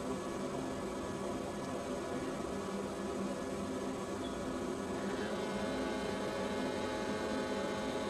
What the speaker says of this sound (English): The pump starts